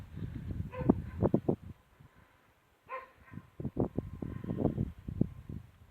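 A farm dog barks in short, irregular bursts while chasing horses across a pasture, the barks fairly close and loud with a brief quiet gap in the middle.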